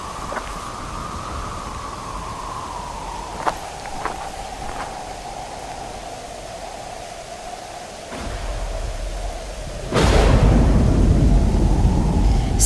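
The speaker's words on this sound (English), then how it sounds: "It's a fucking storm." A thunderstorm rages in the horror game Asylum: a steady wash of rain noise with a low droning hum, a few faint cracks, and a deep rumbling surge of thunder that builds loud near the end.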